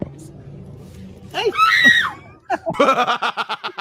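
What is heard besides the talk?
dog screaming in a played video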